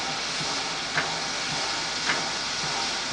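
Steam locomotive on the Grand Canyon Railway readying to depart, giving off a continuous loud hiss of steam with two brief louder bursts, heard alone with no talking.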